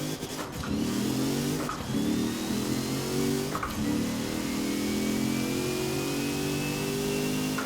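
Rossion Q1 with a racing 2.7 V8 in the Forza Horizon 4 racing game, revving hard in a few sharp bursts and then holding a loud, rising, sustained engine whine, close and alone.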